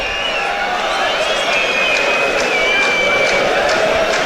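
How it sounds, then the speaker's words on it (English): A large football stadium crowd at a Latvia v Wales European Championship qualifier reacts with a loud, sustained roar of displeasure, a dense wall of voices filling the whole moment. "Crowd aren't happy."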